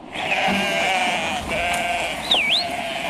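Sheep bleating around the Ludlow livestock auction, several long, wavering calls that overlap one after another, close and loud, with no talking.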